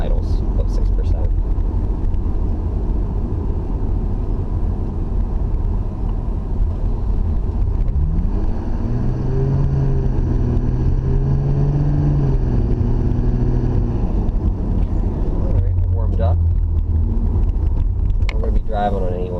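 A turbocharged 2JZ-GE engine in a 1999 Lexus GS300 climbs in pitch under light throttle while driving, a steady interior drone with wind noise throughout, rising tones swelling midway then easing off.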